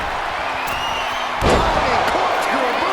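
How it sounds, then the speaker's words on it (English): A wrestler lands a corkscrew moonsault from the top rope in a women's match at a Raw event: one heavy, loud impact on the ring mat over crowd roar and commentary. "Dominant corkscrew moonsault."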